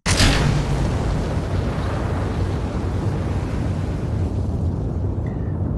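A rocket engine in Kerbal Space Program ignites on an 85-degree tilted launch, a sudden loud blast that settles into a steady, dense roar lasting throughout, with no talking.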